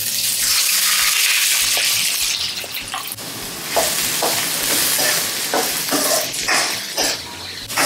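Onion and green chilli frying in a pan for mutton curry, a loud steady sizzle with a burst at the start, then clinking utensil strokes and stirring scrapes through the second half, no talk.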